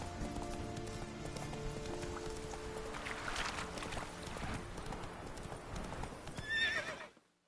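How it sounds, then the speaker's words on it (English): Hoofbeats of the horse Roach galloping in The Witcher 3, a fast steady clip-clop rhythm close up with a brief whinny near the end before it cuts off. "Voy a ir a caballo"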